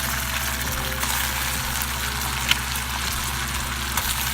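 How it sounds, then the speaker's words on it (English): Butter melting and boiling in a pan while being stirred for apple turnovers with salted caramel drizzle, a steady close sizzle and bubbling with faint occasional stirring clicks and no talking. "Add in the butter. Remember, it's going to start to boil."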